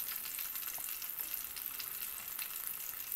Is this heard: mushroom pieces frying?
yes